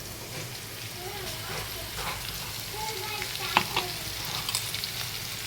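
Ground green chili paste with crushed garlic and coconut sizzles and fries in a pan, a soft steady crackle with occasional stirring and spatters.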